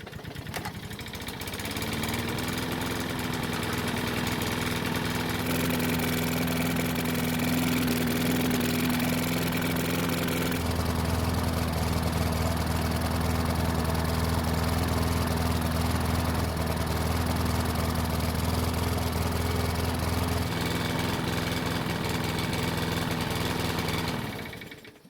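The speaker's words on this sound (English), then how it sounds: "we finally got the engine to start and run" A Toro lawn mower engine that had trouble starting, with its choke bypassed, fires up and runs steadily for over twenty seconds, a loud droning hum that shifts in pitch and roughness partway through before cutting off.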